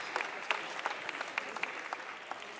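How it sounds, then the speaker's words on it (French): Steady applause from an audience, fairly faint and distant, with individual sharp claps standing out over the even patter and no talking. "Et un tonnerre d'applaudissements pour les raccompagner"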